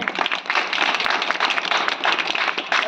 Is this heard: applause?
yes